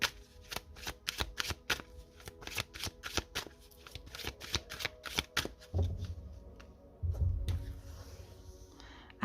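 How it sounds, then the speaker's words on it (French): Tarot cards from a Dream of Gaia deck being riffle-shuffled in rapid crisp bursts, then a few softer slaps and thumps as cards are laid down, close and quiet. "je vais poser les cartes Balance"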